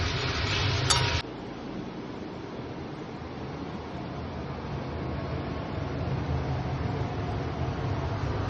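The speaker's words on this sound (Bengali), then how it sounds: "ফ্রায়ারে ভাজা আলু আর পেঁপে অ্যাড করছি, ভালো করে কষিয়ে নেব" Potatoes fried in a fryer and papaya sautéed together in a pan give a steady, close frying sizzle. A brief clink sounds near the start, and the sizzle carries on alone with no talk.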